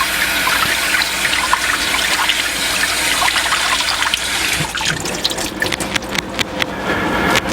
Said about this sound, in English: We just want to rinse it, run it under cold water.